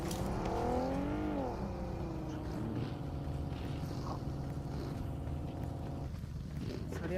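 A vehicle engine in the Free Fire video game drones and revs continuously with pitch sweeps early on, while players talk over it throughout.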